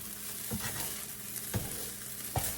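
Breakfast fried rice sizzles steadily in a hot pan while being scooped aside, with three distinct scraping pushes of the utensil cutting through the constant frying hiss.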